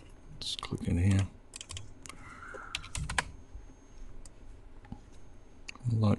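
Quick clusters of mouse clicks and key taps at a desk while working in CAD software, crisp and close, with a voice talking between the bursts.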